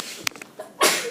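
A single short sneeze bursts out near the end after a few faint clicks and rustles in a quiet room.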